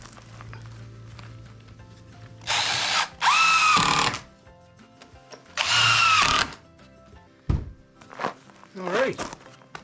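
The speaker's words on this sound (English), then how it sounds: "I may as well screw that down." A power drill drives screws into a wooden shed door threshold in several short whirring bursts, separated by thumps, clatter and handling noises close by.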